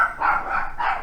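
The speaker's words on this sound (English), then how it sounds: "You might hear a little bit of barking in the background yet" A dog barks in the background, giving a couple of brief, muffled, somewhat distant barks within one second.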